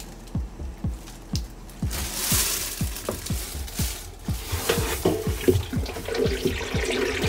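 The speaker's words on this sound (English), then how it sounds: "I hear water." Water runs and sloshes into the drum of a Hitachi BD-SX110EL washer-dryer filling for a wash, while a rhythmic series of low knocks repeats about every third of a second, with no talking.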